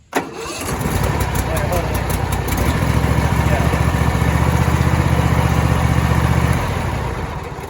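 A John Deere Z525E zero-turn riding mower engine cranks and catches, then runs at a loud, steady idle up close for several seconds before the sound eases off at the end.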